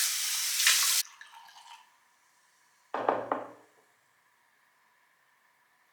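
Wine glass holding a little leftover Moscato being rinsed under a running tap: a loud rush of water cuts off after a second, then a shorter splash follows before quiet.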